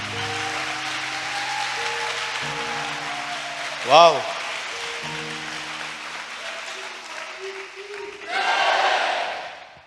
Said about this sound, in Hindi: यस, वो डिजर्व करता है हमारी तालियां।